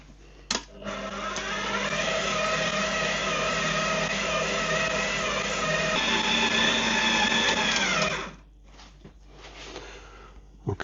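A stand mixer kneads soft scone dough with a loud, steady motor whir that shifts pitch partway through, then cuts off abruptly, leaving faint clatter and a couple of sharp knocks.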